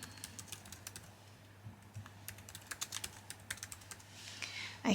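Text is typed on a computer keyboard while designing in Cricut software. Quiet, close key clicks come in irregular bursts of several strokes, with a faint room hum underneath and no speech.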